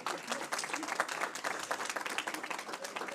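Brief, moderately quiet applause from an audience at a public brain-science lecture, a steady patter of many hands clapping with no break.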